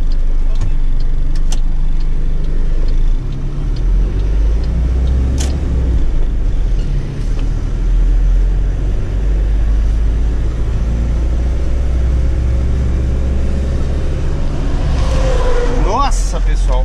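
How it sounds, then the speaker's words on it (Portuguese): A VW 8160 truck engine running weak, a low steady diesel rumble close by that holds throughout, with a voice talking over it and a brief higher whine near the end. "olha como tá fraquinho esse caminhão"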